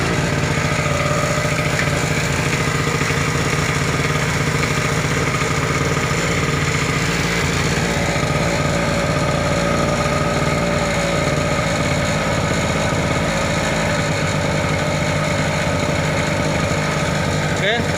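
A small generator engine runs loudly and continuously at close range while its throttle is adjusted, giving a steady buzzing drone with someone talking over it.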